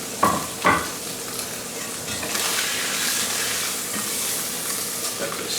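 Steak sizzles loudly in a hot pan, with a couple of clattering knocks near the start as it is flipped, then a continuous bright hiss of frying that carries on without speech.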